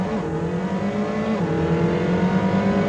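Rally car engine from the video game Rally Champ on British tracks, a steady, loud revving drone with shifting pitch and no voices.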